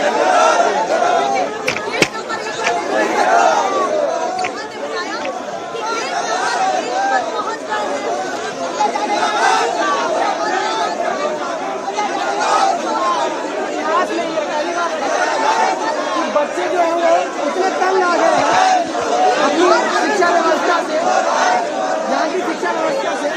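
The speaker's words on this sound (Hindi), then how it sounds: "हेमंत सोरेन सरकार मुर्दाबाद और हमारी मांगे पूरी करो के नारे जो है यहाँ पर छात्र लगा रहे हैं" Students protesting at the gate of the Jharkhand assembly in Ranchi, a dense crowd chanting and shouting slogans continuously, loud and steady throughout, with overlapping voices and a hubbub of chatter.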